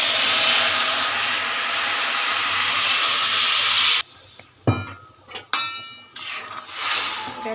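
Boiled vegetables drop into a pan of hot tempering spices for shuktoni, a loud steady hiss and sizzle that cuts off abruptly, followed by scattered clatters and stirring scrapes as the frying settles.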